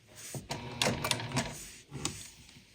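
A sewing machine stitching fabric for a cord organizer, a few short bursts of quick mechanical needle clatter with brief pauses between, close and moderately quiet.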